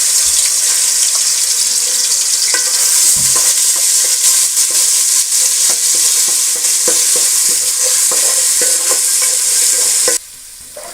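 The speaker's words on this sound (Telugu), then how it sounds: "పచ్చివాసన పోయేంత వరకు ఇది వేయించుకోవాలి ఫ్రెండ్స్, అల్లం వెల్లుల్లి పేస్ట్." Ginger garlic paste frying in hot oil with whole spices for chicken dum biryani, a steady close sizzle with frequent stirring scrapes and clatter, continuous and loud, ending abruptly near the end; no talking.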